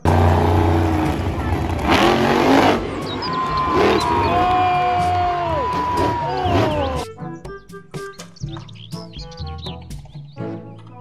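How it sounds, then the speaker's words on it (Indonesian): Monster truck engine roaring loudly for several seconds, with rising and falling whine sweeps and crowd-like noise, then giving way to a busier run of short chirping, clattering sounds over a lower rumble. "Mobil truk"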